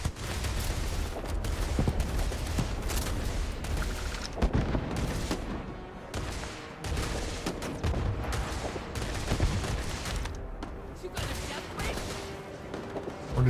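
Dense, continuous gunfire and booming blasts from a Starfield firefight, rapid shots overlapping with heavy impacts at steady loudness, with some voice mixed in beneath.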